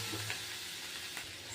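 Oil sizzles steadily in a pan during a simple spinach recipe, a brief, close, unbroken frying hiss before water goes in.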